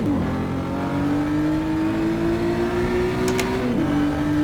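BMW M2 CS engine in the racing game rFactor 2, a loud sustained drone whose pitch climbs slowly as the car pulls, then dips briefly and recovers with a quick lift and reapplication of throttle.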